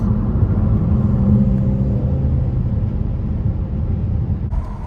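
A V6 Dodge Challenger accelerates to overtake another car, giving a steady low engine rumble and road roar heard from inside the car, loud and continuous, with no talk.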